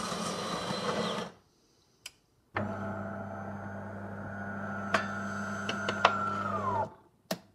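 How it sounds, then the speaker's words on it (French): A Delonghi Dinamica Plus coffee machine grinds beans in a short burst, goes quiet with a click, then resumes with a steady whirring drone that ends abruptly after several seconds, punctuated by sharp clicks. "On voit maintenant que c'est en train de broyer le café."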